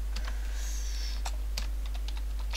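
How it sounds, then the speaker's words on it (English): A computer keyboard clicks through a short, irregular burst of keystrokes, close and crisp, over a low steady electrical hum. "It's my keyboard."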